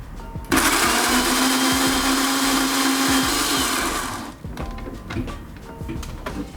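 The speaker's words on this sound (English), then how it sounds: "now we can blend it until it's nice and smooth." A blender blending hummus whirs loudly and steadily for about four seconds, then cuts off, leaving light clattering and handling noises.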